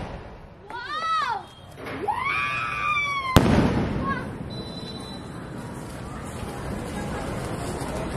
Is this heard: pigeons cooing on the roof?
no